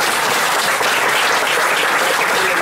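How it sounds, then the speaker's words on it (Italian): Loud, dense applause from an audience at a talk about water, steady and unbroken throughout, with no voices over it. "Fate un applauso a loro."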